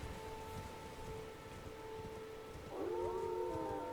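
In the Elden Ring video game, wolves howl in sustained, wavering tones over a rainy, noisy background, with a second, fuller burst of overlapping howls rising near the end.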